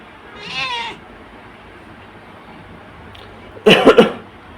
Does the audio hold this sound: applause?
no